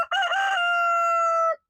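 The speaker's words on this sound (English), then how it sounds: "Crowing on request." A rooster crows once at close range, a loud, sustained call that holds steady for over a second before cutting off, with no talking over it.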